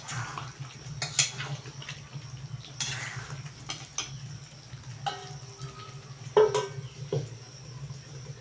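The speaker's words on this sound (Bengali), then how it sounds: "আবার নেড়ে চেড়ে আমি ঢাকনা দিয়ে দেবো।" Mutton and potatoes stirred in a pot, with scattered clinks and scrapes of a utensil against metal and a lid set down with a sharp clatter near the end, over a steady low stove hum.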